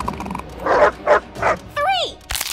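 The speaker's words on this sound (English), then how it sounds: "Hey, little puppy." A puppy yipping and barking in an animated children's show: three short barks followed by a rising, whining whimper, with voices around it.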